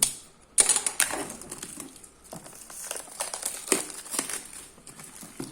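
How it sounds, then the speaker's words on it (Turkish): A Samsung Galaxy Tab A7 tablet is pulled out of a plastic bag, giving crinkling, rustling bursts of varying loudness up close. "poşetinden çıkartalım şöyle bir"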